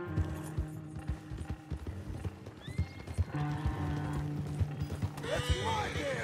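Horse hooves clip-clop in the Red Dead Redemption 2 video game, steady uneven thuds close by with a horse whinnying partway through amid other game sounds.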